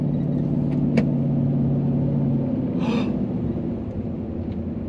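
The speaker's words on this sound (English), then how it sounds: "I feel like launching my truck up this hill" A truck climbs a hill on a road near Mousetail Landing with a steady, close engine rumble throughout, marked by a sharp click around one second and a brief hiss near three seconds.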